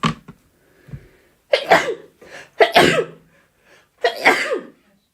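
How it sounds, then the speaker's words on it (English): Several sharp, explosive bursts close by, sneeze-like with breathy intakes between them, separated by short pauses. "One sec, about to sneeze"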